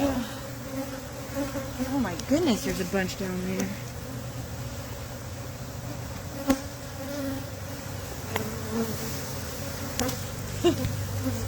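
Swarm of honey bees buzzing around beehives as they choose which hive to enter, a steady insect hum close by with a person talking over it.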